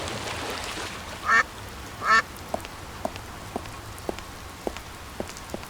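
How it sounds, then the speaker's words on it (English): Ducks in the video game Secret Files Puritas Cordis give two distinct loud quacks near the start, followed by sparse, evenly spaced drips and taps over a quiet background. "The ducks are already here."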